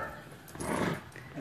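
A rescued puppy, one of more than a hundred abandoned dogs in the Florida Everglades, whimpers softly and close by in short, faint whines against background noise.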